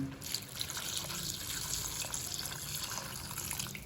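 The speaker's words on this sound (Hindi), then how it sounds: "अब हम इसमें ऐड करेंगे पानी" Water poured into a cooking pan of potatoes and green capsicum (aloo shimla mirch), a steady splashing gush held at even loudness for several seconds with no talk.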